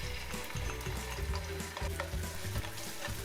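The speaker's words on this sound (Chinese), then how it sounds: "香味出来之后，我们可以加入蚝油一起来翻炒" Ginger, garlic and chili sizzle and crackle with oyster sauce in an oiled wok over medium heat while being stir-fried, a dense, close, continuous frying hiss with the scrape of a turning spatula.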